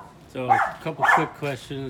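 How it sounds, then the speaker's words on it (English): Several dogs bark in short bursts behind someone talking close by about an OK Joe 3-in-1 combo grill, the barks sharp and mid-loud amid his speech. "Sorry about the dogs. I got a lot of them. They're barking all over."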